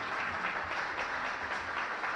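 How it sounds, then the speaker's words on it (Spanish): A church congregation claps together in steady, continuous applause that fills the room at an even loudness. "Dale un aplauso al Señor."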